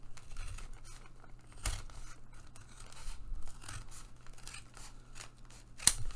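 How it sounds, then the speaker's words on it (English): Scissors snip through excess paper while trimming a handmade journal made from lunch bags, with quiet cutting strokes, paper rustling and crinkling, and a sharp snap near the end. "I'm just going to go ahead and use my scissors to cut all of that off."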